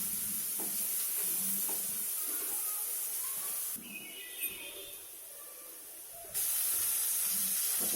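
Something fries in a pan before tomato is added, producing a constant close hissing sizzle that drops quieter briefly in the middle, with light stirring sounds, before returning loud.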